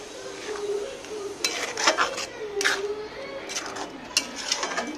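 A spoon clinks and scrapes in a pan as spiced corn chevdo with turmeric and green chilli is mixed in a home kitchen, a few close, bright knocks in an uneven rhythm, heard beneath a voice.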